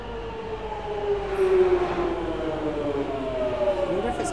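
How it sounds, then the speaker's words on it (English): Underground train pulling into the platform at Waterloo station on the London Underground, a steady rumbling roar with rising tonal whine from motors and wheels, fairly loud and continuous throughout. "now there's a train coming in"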